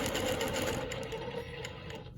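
A longarm quilting machine stitching a Baptist fan pattern, a steady fast whirring hum with a fine rapid needle rhythm, continuous and close, with no voice.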